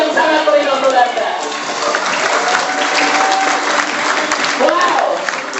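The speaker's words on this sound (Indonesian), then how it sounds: "Beri aplaus yang sangat meriah untuk Anda." An audience in a Jakarta presentation hall bursts into sustained applause, a dense continuous wash of clapping that stays loud for several seconds, with a presenter's voice over it.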